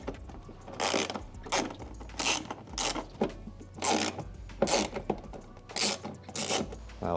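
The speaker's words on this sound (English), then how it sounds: "we're gonna take a T20 Torx socket and a ratchet, and we're gonna remove these two lowermost screws in the fender liner here" A ratchet turns a T20 Torx socket to back out fender liner screws on a Rivian R1T or R1S, giving repeated close clicking bursts in an uneven rhythm with short pauses between strokes.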